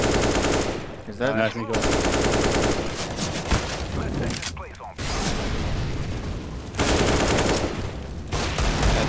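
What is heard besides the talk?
gunfire in a video game, Counter-Strike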